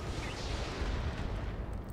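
Heavy weapon fire from missile launchers and autocannons in the video game Roguepoint rolls out as a dense, continuous booming rumble, loud and sustained throughout.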